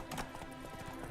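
Horse hooves galloping during a race in The Witcher 3: Wild Hunt, a quick rhythmic clip-clop of game audio, brief and fairly faint.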